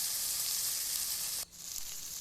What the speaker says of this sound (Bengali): কষাতে কষাতে যখন ভালোভাবে তেলটা ছেড়ে দেবে তখনই দিয়ে দিতে হবে কিছু টমেটো।